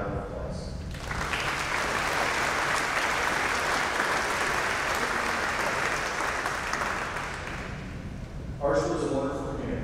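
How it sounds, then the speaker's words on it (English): Broad, steady applause from a high school commencement crowd swells after a brief lead-in and holds for several seconds before fading as a voice returns near the end. "Please give them a round of applause."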